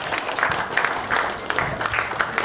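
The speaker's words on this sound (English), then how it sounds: "One more round of applause for the lady of the evening." A crowd at an 80th birthday celebration claps for the guest of honour in a steady, moderately loud burst of applause with no voices over it.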